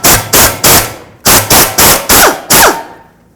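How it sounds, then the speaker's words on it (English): An impact wrench or air ratchet works on a bolt beneath the engine of a 2009-2013 Mazda 3 during a torque strut mount replacement. It fires in about eight loud, close bursts with short gaps, then stops. "we're going to remove this bolt"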